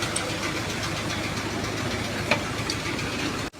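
A Hyundai Grand Starex CRDI with a D4CB diesel engine runs at a steady idle up close, with a fault in the alternator bearing. The hum is continuous and even, with no talk, and it cuts off abruptly at the end.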